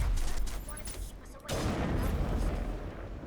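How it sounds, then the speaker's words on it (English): Gunfire in the Mass Effect video game, with a loud burst of booming shots followed by a sudden cut into a rumbling, noisy stretch of battle ambience. "Look, I love the sniper rifle, by the way."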